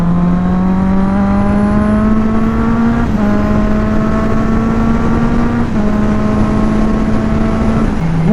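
A Honda CB650R motorcycle's inline-four exhaust drones loudly and steadily while riding, holding an even pitch through three gear changes, each marked by a brief dip before the tone climbs again.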